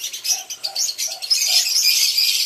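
Lovebirds chirp and twitter busily while feeding on malunggay branches, a continuous bright chatter of high calls with a soft cooing note repeating underneath, close by and without any talking.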